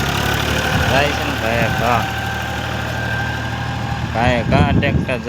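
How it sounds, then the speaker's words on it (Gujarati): A tractor engine runs steadily at a low idle-like drone while the tractor reverses during sowing work in a farm field, with someone talking over it throughout and louder voices near the end. "કાંઈ ટ્રેક્ટર જાય છે હો."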